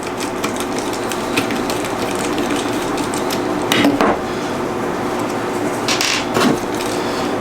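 Small metallic clinks and scrapes of a screwdriver working action screws out of a Savage 110 bolt-action rifle, close and steady, with a couple of louder knocks.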